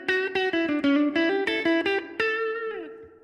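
An electric guitar plays a quick run of plucked notes through a Line 6 Stadium '65 spring reverb effect, each note clear and bright, with the last chord ringing out and decaying in springy reverb.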